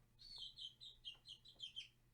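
A hen clucks and chirps in a quick series of short high calls, fairly close, against a steady low background hum.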